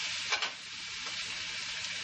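Squid pieces sizzle steadily in a hot pan as they go in, a continuous close frying hiss with a brief stir-like burst near the start.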